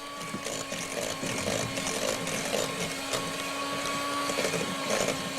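An electric mixer whirs steadily as it beats cream cheese until smooth and bubbly for a cheap pie, a continuous motor drone with a faint steady whine running unbroken throughout.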